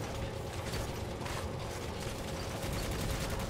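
Enemy gunfire in the video game Necromunda: Hired Gun, a dense, continuous clatter of rapid shots and mechanical rattling that stays loud and unbroken throughout.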